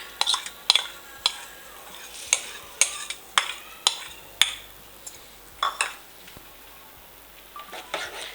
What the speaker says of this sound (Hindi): तो अभी दोनों दालें मिक्स कर दिए